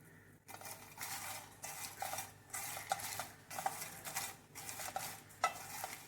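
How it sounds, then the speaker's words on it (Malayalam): Dried anchovies frying in a pan, with repeated stirring and scraping of a utensil against the metal and light sizzling underneath, coming in uneven bursts close to the microphone. "നമ്മൾ വറുത്തെടുക്കുകയാണേ"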